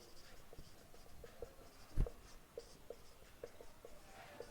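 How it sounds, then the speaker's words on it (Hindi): A pen writes out a maths question on paper in faint, close scratches and light taps, with one sharper tap midway and no talking. "अगला क्वेश्चन लिखते हैं अपन"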